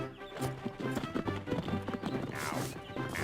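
Cartoon horse hooves clip-clopping in a quick, even rhythm, close and clear over a light music bed, with a brief whinny-like note.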